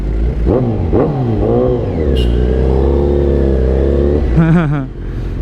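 Kawasaki Z900 motorcycle engine revs loudly and close in sharp rising blips, then holds a sustained drone before a final quick burst of revs, with a voice speaking over it.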